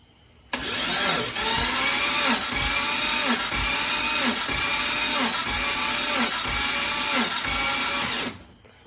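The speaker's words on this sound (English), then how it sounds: "Crank her up, Will." A BMW E30 with a swapped M50 engine cranking over on the starter during a compression test, a loud steady whirring with an even pulsing chug for about eight seconds before it cuts off.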